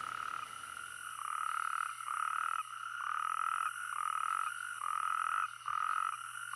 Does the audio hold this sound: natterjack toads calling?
yes